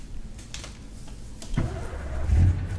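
An old Volvo truck with open exhaust pipes in Euro Truck Simulator 2 starts up and revs, a low rumble swelling into a deep, growling rev near the end, fairly quiet and with no talking.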